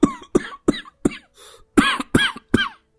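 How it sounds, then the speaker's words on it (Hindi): A man coughs hard and repeatedly, about eight separate chesty bursts spaced through a few seconds, with a short throat-clearing rasp in the middle. All close and loud, with no talk. "कब से खांस रहे हैं"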